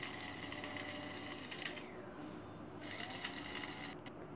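An electric blender grinds fried spices for an iftar meal, a continuous whirring motor drone that briefly shifts pitch partway through.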